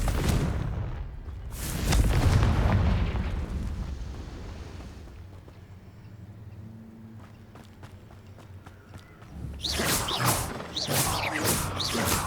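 Confringo blasting spell explosions in Hogwarts Legacy, heard as loud bursts near the start and again near the end, with quieter game rumble and footsteps between them.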